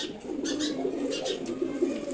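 Caged pigeons cooing close by, a continuous low rolling coo with soft rhythmic pulses, alongside faint rustling in the coop.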